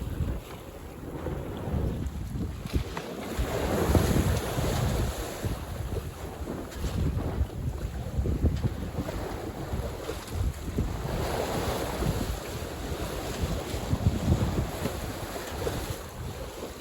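Strong wind roars and waves wash continuously around a 28-foot sailboat on an open-sea passage, with heavy microphone buffeting throughout and no voices.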